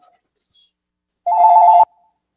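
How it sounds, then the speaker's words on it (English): A phone rings during a planning commission meeting in a hearing room, one short electronic tone followed by a steadier, louder ringing burst of about half a second, heard near with no talk over it. "Is that your phone, Commissioner Blau?"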